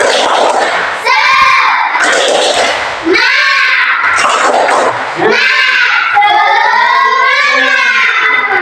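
Classroom students shout a rhythmic group cheer together in loud unison bursts, several chanted phrases separated by brief pauses, voices close and energetic.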